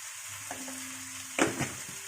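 Local chicken fries in butter after salt is added, a soft steady sizzle broken by a couple of brief scraping stirs.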